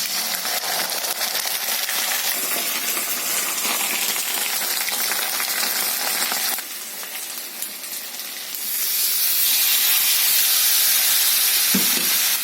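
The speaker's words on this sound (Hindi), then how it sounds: "जीरा दे दिया, अब तेजपत्ता दे रहा हूँ" Cumin seeds and bay leaf sizzle loudly in hot oil, a dense steady hiss and crackle close up that dips briefly, then surges again, with no talking.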